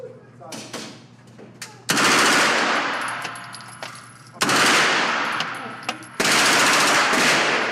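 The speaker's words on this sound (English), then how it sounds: "Put the red dot where you want the bullets to go, squeeze the trigger." Gunfire erupts in three long, very loud automatic bursts near a desert area by Area 51, each burst a dense rapid stream of shots with ringing decay, separated by quieter stretches with faint earlier pops.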